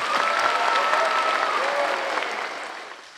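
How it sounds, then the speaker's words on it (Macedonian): An audience at the SI-DO international children's festival applauds loudly and steadily, the clapping thinning and fading toward the end. "Аплауз за сите нас!"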